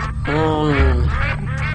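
A duck quacks several times in quick succession, the calls loud and close, with little else around them.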